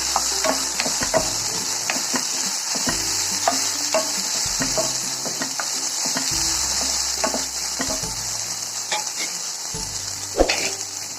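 Grated coconut is stirred into kovakka thoran frying in a pan, giving a steady sizzle broken by repeated scraping and stirring strokes of a spoon against the pan, close and fairly loud, with no talking.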